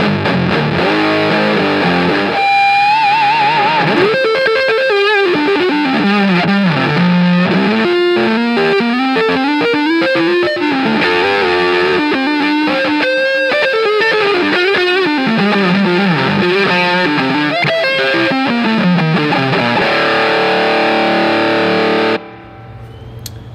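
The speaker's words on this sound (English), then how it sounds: "Also shouldn't be afraid to test the different pinch harmonic elements that could be" Electric guitar with humbucker pickups played through heavy distortion in a guitar store, a loud continuous lead line with squealing pinch harmonics and bends rising and falling, no talk, cutting off near the end.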